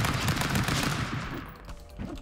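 Rapid bursts of gunfire in the video game Stick Fight: The Game, loud and dense at first, then thinning out and fading.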